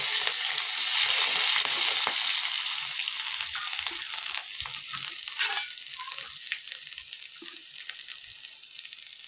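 Ginger and green chili fry in a pan for a lentil khichuri, giving a continuous bright sizzle with scattered crackles and spatula scrapes, close and fairly loud with nobody speaking.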